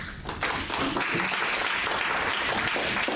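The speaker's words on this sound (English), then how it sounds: "That round of applause is for you, buddy." Audience at a tech meetup gives a round of applause after the announcements, a dense crowd clapping that starts within the first half second and holds steady and fairly loud to the end.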